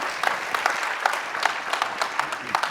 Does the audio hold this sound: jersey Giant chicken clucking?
no